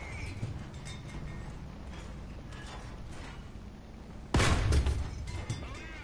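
A tank cannon fires in the video game War Thunder, one sharp heavy boom near the end over a low rumbling engine and mechanical clatter, with no talking.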